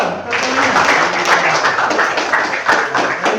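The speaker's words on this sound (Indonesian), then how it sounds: "Tepuk tangan dulu. Tepuk tangan." A class of students bursts into lively applause with brisk clapping for a few seconds. Some voices mix in beneath the claps.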